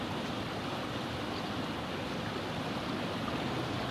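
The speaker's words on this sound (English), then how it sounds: "running water." Water rushes continuously in a smooth, even hiss, like a stream flowing nearby in Yosemite Valley, steady throughout with no voices.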